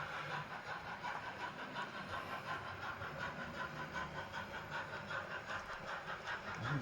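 A Rapido Stirling Single model locomotive hauls teak coaches uphill, a faint steady mechanical hum and rhythmic rail clicking, continuous and distant with no talk.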